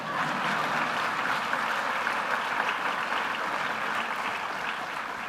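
Steady, dense applause from a large audience at a fall convocation ceremony, continuous and fairly loud throughout with no pauses.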